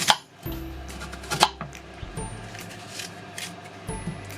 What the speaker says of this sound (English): here we are for chopping apples